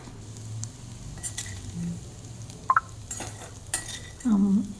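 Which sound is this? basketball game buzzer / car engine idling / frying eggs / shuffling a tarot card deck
frying eggs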